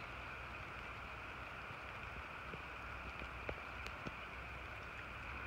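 Steady rain hissing close by, with a few distinct drips landing near the middle; no voices.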